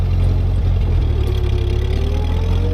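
A Ford 8N tractor engine clearing snow chugs steadily nearby, a loud low rumbling idle with a slight rise in pitch partway through, no voices over it.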